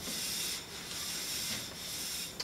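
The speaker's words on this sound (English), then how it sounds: "we're just going to take a duster and we're going to go up here and we're going to clean the grate off" A duster brushes dust off an air conditioner's vent grate with soft, close scrubbing strokes, a quiet rasping hiss that rises and falls in a few short passes.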